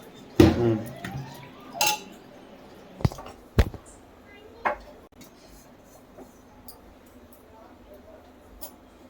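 Quartered onion pieces drop into a pot for homemade chicken biryani, a few sharp metallic clanks and clatters spread over several seconds, then a faint pot and utensil rattle near the end, with speech heard in between.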